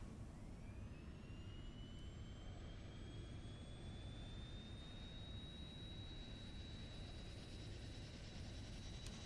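A Metroliner turboprop engine spooling up at start in a flight simulator: a steady broadband roar with a rising turbine whine that climbs and settles into a sustained high tone, loud and continuous throughout.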